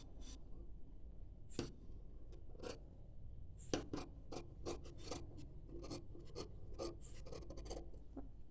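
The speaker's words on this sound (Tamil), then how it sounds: "இப்படி சமமாக மடிச்சுட்டு இப்போ வந்து ஃப்ரண்ட் சைடுக்கு வந்து கட் பண்ணணும்" Scissors snip through folded fabric while cutting a panties pattern, giving a series of short, crisp rasping cuts in an irregular rhythm, close and fairly quiet, with no talking.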